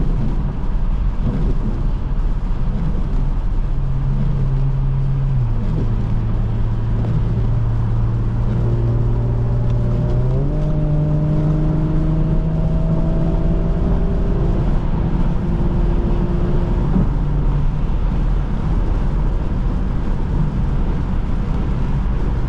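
A 2021 Audi S5 Cabriolet with its 3.0T engine accelerates on a freeway. A smooth engine note climbs steadily in pitch and steps through gear changes under a constant loud roar of wind and road noise.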